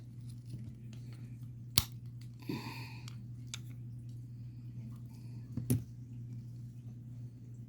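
Scissors snip a nail polish strip in two quick, sharp cuts, quiet and close, set several seconds apart against a faint steady background hum.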